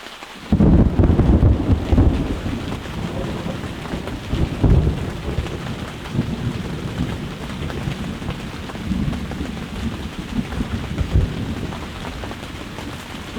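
Heavy rain pours steadily while deep rolls of thunder rumble, swelling loudly near the start and again midway, with wind mixed in.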